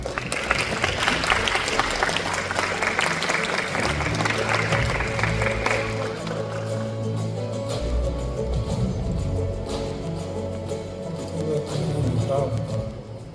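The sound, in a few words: audience applause welcoming a speaker on stage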